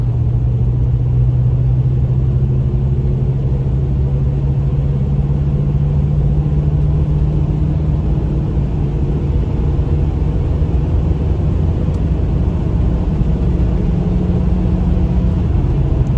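A Sportsmobile E250 adventure van's engine drones loudly and steadily as it works up through the gears, a continuous close, low rumble whose pitch shifts subtly as it moves from one gear to the next.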